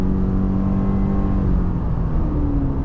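A 2025 Subaru Forester Premium's engine pulls steadily at highway speed, a smooth, continuous hum with a low droning tone and road noise throughout, no voices.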